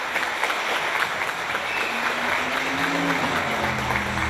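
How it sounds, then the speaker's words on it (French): Applause for a speaker at a public address, moderate clapping running steadily throughout with a low voice or hum emerging faintly underneath midway. "Je pense qu'on peut encore vraiment l'applaudir très très fort."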